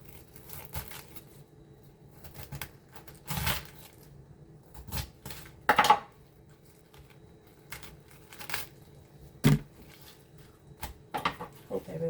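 A knife cutting through a cabbage for spicy coleslaw, a series of crunchy slicing and chopping strokes at irregular intervals over faint background rustling, fairly close.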